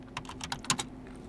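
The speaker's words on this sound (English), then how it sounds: "We can do it by typing in get now child item" Quick, light clicks from a computer keyboard tap out a short command on a Windows PC in PowerShell, an irregular run of close keystrokes with no voices.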